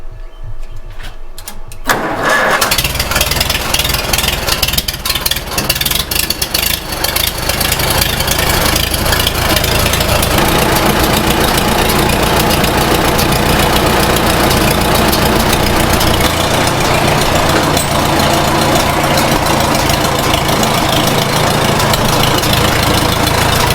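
An old farm vehicle's engine starts after a few cranks, catches loudly, and settles into a steady, close, rattling idle that runs on unbroken.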